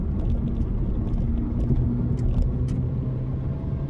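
A car drives fast and aggressively on the road, its engine a steady low rumble with road noise inside the cabin, no talking.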